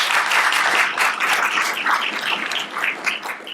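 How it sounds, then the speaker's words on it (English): An audience at a microbiome conference claps steadily for several seconds, a dense, sustained wash of applause from many hands with no voices over it. "But another round of applause for Dr. Kamen."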